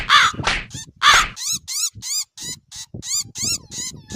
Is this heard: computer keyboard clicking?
no